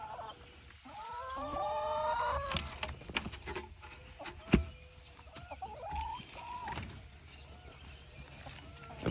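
Chickens cluck and squawk close by in a busy outdoor coop, with a sharp clank partway through and scattered bird calls around them.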